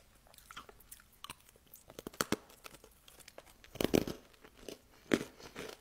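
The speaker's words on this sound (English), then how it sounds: "Can you hear that crunch?" Freeze-dried watermelon candy is bitten and chewed close up, giving a string of sharp, brittle crunches and crackles in an irregular rhythm, louder bites standing out, with no talking.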